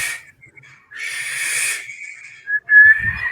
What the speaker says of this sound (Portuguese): Saiu um assobio fininho!